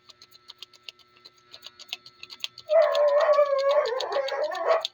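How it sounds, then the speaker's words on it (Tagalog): A dog barks in a steady, continuous run, loud and close, following a string of regular ticking clicks that continue faintly underneath. "Kaya ingay ng mga aso."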